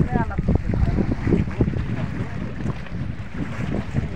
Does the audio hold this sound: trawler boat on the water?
yes